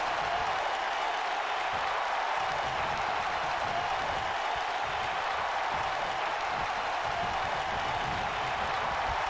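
Steady crowd roar from a sold-out arena in the wrestling video game XCW Wrestling Evolved, a continuous, fairly faint wash of cheering and clapping held evenly throughout with no distinct peaks.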